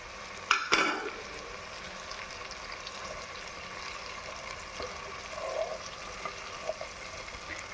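Onions frying in a pan with ginger, garlic and chili, giving a steady low sizzle with a couple of sharp stirring clatters near the start, then soft scraping throughout.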